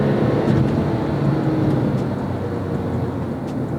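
A manual-gearbox Porsche 911 997 Turbo pulls hard on boost, a dense, steady engine roar heard from inside the cabin, loud and continuous without a break.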